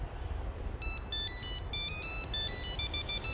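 A mobile phone ringtone plays during a children's rehearsal, a faint electronic melody of repeated bright beeping notes over a low room rumble, with no talk.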